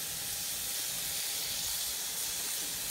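Gourmet hamburger patties fry in a pan, giving a continuous, even sizzling hiss with no breaks, heard close and steady throughout.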